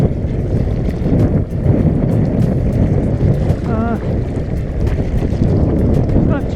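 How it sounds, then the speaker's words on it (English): Strong wind buffets the microphone in a loud, constant roar while kayaking off Sunset Bay Park in Marathon, Florida Keys, with choppy water beneath and brief voice fragments. "The wind is bad. The wind really picked up."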